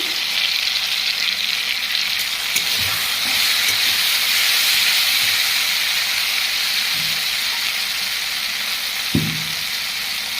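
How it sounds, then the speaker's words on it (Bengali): Cumin and coriander powder frying in hot oil for a rohu fish curry, a steady close sizzle with a few soft clinks of stirring, no talk. "আমি এক চামচ জিরে ধনের গুঁড়ো দিয়ে দিচ্ছি"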